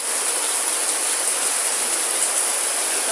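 Heavy morning rain falls steadily in Singapore, a dense, even hiss of downpour recorded from a second-floor vantage, loud and constant with no voices.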